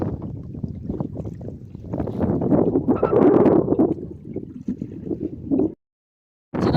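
Strong wind buffeting a fishing boat at sea with rain nearby, a loud rough rushing roar that swells and surges, then cuts out briefly before returning.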